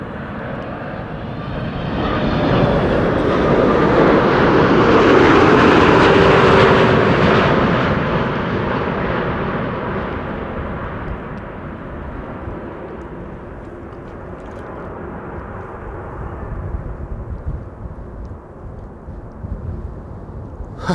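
An Emirates Airbus A380 lands at Amsterdam Schiphol, its deep engine roar building quickly to a loud, close peak with a low whine, then tapering off into a lingering distant rumble.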